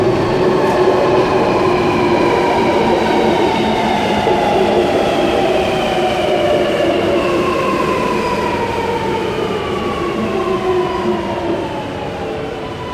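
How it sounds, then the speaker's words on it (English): A Sydney Metro Metropolis train pulls into platform 2 at Chatswood at night, giving a loud, steady rumble with high whining tones that glide up and down before slowly easing off as it arrives. "Metropolis set number 4 arriving on platform number 2"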